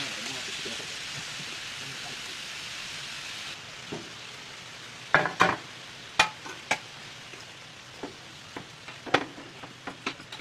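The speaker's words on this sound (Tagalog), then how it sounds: "Mas okay din kasi na sinisir muna yung meat kaysa gisa" Meat searing in a pan in a home kitchen gives a soft, steady sizzle for the first few seconds, then sharp clicks and scrapes of cookware, with faint talk in the background.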